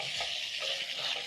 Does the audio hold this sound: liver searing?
yes